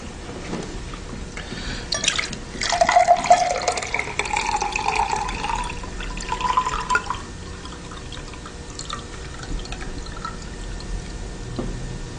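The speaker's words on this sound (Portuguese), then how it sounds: "Será que você conseguiria só tirar a água suja, passar por esse copo, mas sem mexer na terra que tá lá no fundo?" Dirty water is poured off settled soil into a glass, a soft trickling and splashing pour that swells and fades over several seconds, fairly close with no talk.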